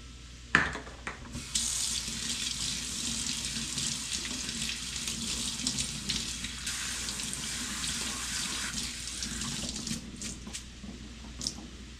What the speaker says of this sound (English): But I rinse my barley before I put it in the pot. I put it in a strainer.